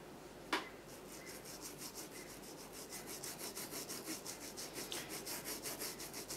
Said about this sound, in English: Just applying the wax polish onto the welt